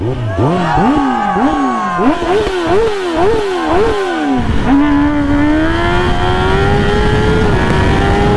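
A Kawasaki Ninja ZX-10R sportbike engine is revved hard in a rapid series of sharp throttle blips, then holds a steady, rising high-pitched drone. It sounds close and loud, with no voices.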